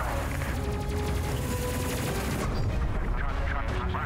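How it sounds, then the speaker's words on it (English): Weapons fire in the Space Crew video game, a dense, rapid stream of loud gunfire bursts that keeps going without a break, with a voice talking partly over it. "fire all the weapons that we have and destroy anything we can do"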